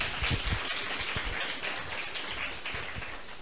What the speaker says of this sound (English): A resounding round of applause for all our judges.